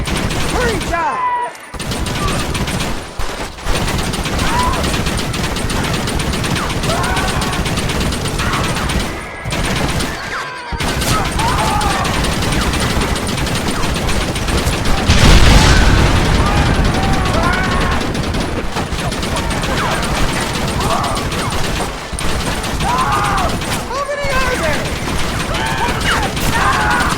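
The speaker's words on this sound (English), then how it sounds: "Why are they all shooting at me?" Red Dead Redemption shootout: a long stretch of frequent close gunshots, rifle and revolver cracks layered into ragged volleys with brief lulls and a heavier burst midway, while people shout and talk over the fighting.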